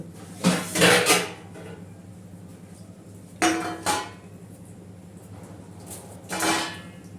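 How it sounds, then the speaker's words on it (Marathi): A steel plate is set over a pot of chicken cooking without tempering, making three separate metallic clatters and clanks, close and fairly loud, with quiet gaps between them. "आता त्याच्यावर आपण ताट ठेवतोय आहे शिजायपर्यंत"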